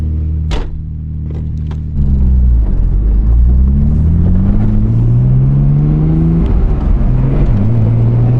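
A Nissan R32 GT-R engine with HKS twin turbos roars steadily on a dyno, its pitch sweeping upward as it revs hard, with a couple of sharp clicks at the start.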